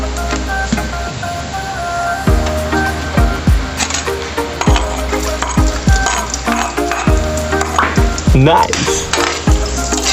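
Garlic and onion sizzle and fry in a hot pan for an adobong talong dish, with steady loud crackling broken by repeated metal-on-pan stirring clanks; a voice briefly exclaims.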